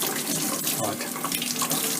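Tap water runs steadily over a Dyson V7 vacuum filter being rinsed in a sink, a close continuous splashing gush with no speech.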